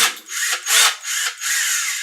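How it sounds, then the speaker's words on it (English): A new lithium-battery cordless drill whirring in short bursts, its high motor whine rising and easing several times, close and loud with no talking. "I just got a new drill. It's a lithium powered drill."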